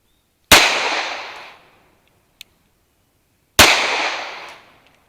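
Two loud, close gunshots from a CZ Shadow 2 Carry pistol at a shooting range, spaced about three seconds apart, each with a long decaying ring-out and a faint click between them.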